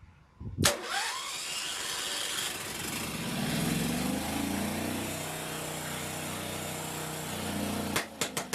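Generator engine cranks and catches after a sharp start, then runs at a steady mid-pitched idle with a rising rev, ending with a few clunks, loud and close.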